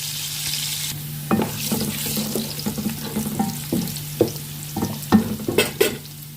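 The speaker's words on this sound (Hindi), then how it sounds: "प्याज को लाइट ब्राउन करेंगे।" Chopped onions fry and sizzle in a hot pan for chana pulao, with a steady hiss broken by repeated scraping stirs and clinks of a spoon against the pan, close up and without speech.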